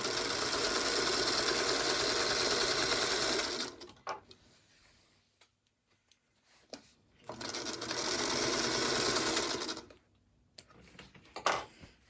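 Sewing machine stitching seams on a scrap-apple quilt block, running in two steady bursts of several seconds each, separated by a quiet pause with faint handling clicks.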